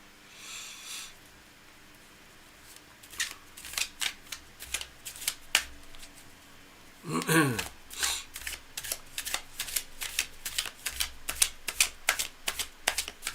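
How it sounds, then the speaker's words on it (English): Tarot cards are shuffled during a live reading: a run of crisp riffling and slapping bursts, some close and sharp, with a longer rapid riffle midway and quiet room tone between. "the cards are already shuffled because I just did that"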